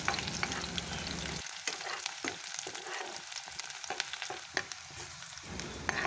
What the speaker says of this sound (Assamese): পিঁয়াজখিনি অকণমান ৰঙচুৱা হোৱালৈকে ভাজি ল'ম।